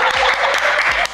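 Studio audience applause on a Japanese talk segment promoting a reality dating show, a dense, steady burst of clapping filling the whole moment at close, even loudness.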